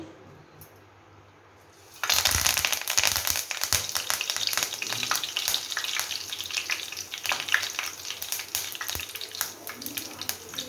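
Curry leaves dropped into reused frying oil burst into a loud, sudden sizzle after a quiet start. The dense crackling spatter carries on close and steady, with no talk.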